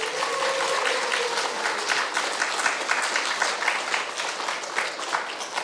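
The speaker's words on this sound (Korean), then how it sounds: "박수 준비" Congregation applauding during a Sunday worship service at a Korean church, a steady wash of many hands clapping together at a fairly even level throughout, with no voices rising above it.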